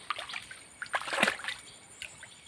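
Intermittent light splashes and sloshing of cold river water while washing clothes, close by, a few soft bursts clustering in the middle before trailing off.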